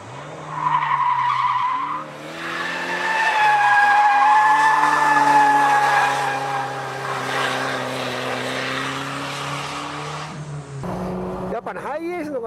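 Toyota HiAce van drifting, its tires squealing in long, loud, wavering skids over steady engine noise, with a rougher burst of tire and engine sound near the end.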